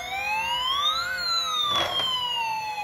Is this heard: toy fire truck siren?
yes